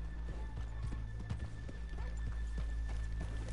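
Video game horse hooves clip-clop at a steady walking pace, the clops close and even over a low background hum.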